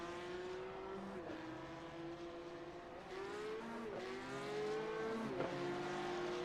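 Porsche race cars warming up on the Road Atlanta track, engines droning and rising and falling in pitch as they pass at a distance, steady and fairly faint.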